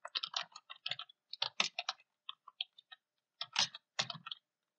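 Keys clack on a computer keyboard in short quick bursts separated by brief pauses, close up and fairly quiet, with no voices.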